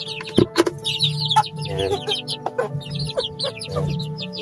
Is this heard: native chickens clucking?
yes